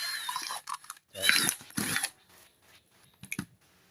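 A sharp pointed tool pokes holes in a container of fabric softener meant to scent a car interior, giving short scratchy clicks and crunches in several separate bursts, close and moderately loud.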